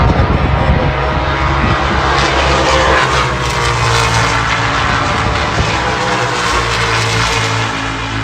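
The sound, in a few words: NASCAR race cars racing side by side down the straight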